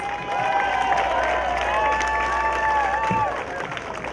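An outdoor crowd at a beach sand sculpting festival awards ceremony claps and cheers for a sustained stretch, with scattered shouts over dense, even applause and a brief low thump near the end.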